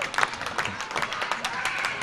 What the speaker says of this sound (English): This crowd appreciative.